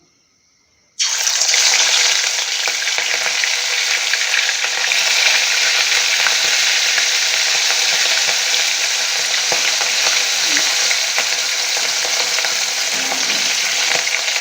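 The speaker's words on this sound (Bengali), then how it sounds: "তেল গরম হয়ে গেছে এবার আমি মাছগুলোকে দিয়ে দেব" Pieces of rohu fish frying in hot oil in a pan. After a second of silence, a loud, dense sizzle starts and continues steadily and close up, with no voices.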